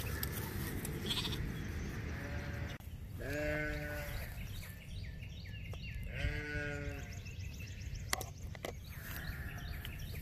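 Lambs bleat repeatedly on a farm during banding for castration, with wavering calls spaced a few seconds apart over a steady background hiss and occasional clicks.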